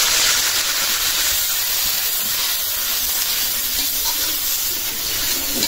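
Water poured into hot oil over fried onions for a prawn curry with yogurt, giving a loud, steady steam hiss that holds evenly for several seconds with no talk.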